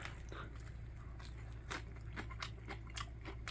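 Homemade winter kimchi made from napa cabbage is chewed up close, with soft wet crunches and bites repeating irregularly over a low steady background hum.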